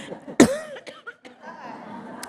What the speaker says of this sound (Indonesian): Maaf, saya jadi batuk deh.